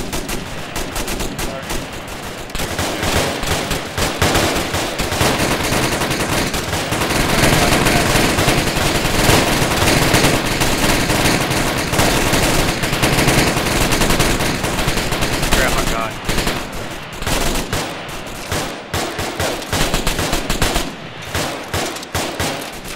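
Heavy gunfire from a military shooter game, dense machine-gun bursts and rifle shots, rattles continuously and loudly across the whole stretch, with brief lulls and voices occasionally mixed in.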